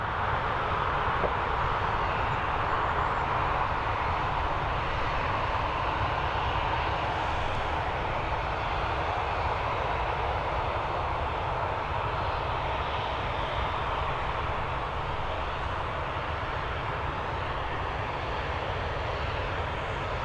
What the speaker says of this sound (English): we've got this Boeing 767 coming in from Shannon